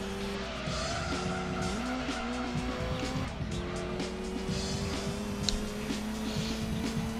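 Rally car in Gran Turismo 2 sliding sideways, its engine droning steadily while tires squeal continuously through the drift, loud and close, with a brief voice mixed in.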